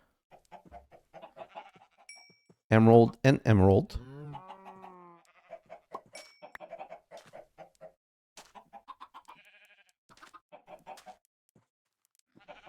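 Chickens clucking in a video game, with soft short clucks scattered through and one loud burst of squawking near the start, while a person talks quietly across much of it.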